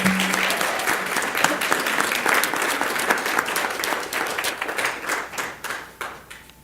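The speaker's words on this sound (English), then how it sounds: "So if we can give a round of applause to Ms." A school board meeting audience applauds Ms. Marla Hobbs with brisk, sustained clapping from a room of people that thins out and fades toward the end.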